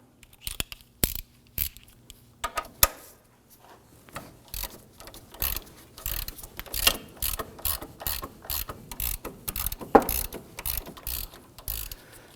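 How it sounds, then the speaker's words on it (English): Socket wrench with a 15mm socket loosening a rusted outer tie rod nut on a Ford Focus, producing rapid ratcheting clicks in short repeated bursts, close up and fairly loud, with no voices. "We want to loosen this upper nut here for our outer tie rod. Ours is a little bit rusted, so we're going to go ahead and tap that socket on there."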